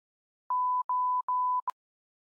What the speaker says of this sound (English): Looks like your phone's out of service.